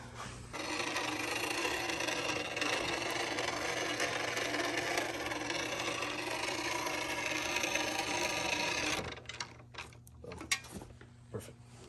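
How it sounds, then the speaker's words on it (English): Steady rasping and grinding from a power trimmer cutting away excess material on a custom lineman climbing boot, continuous and close for about nine seconds, then breaking into a few scattered knocks and scrapes. "Now I'm going to trim because there's just some excess material here."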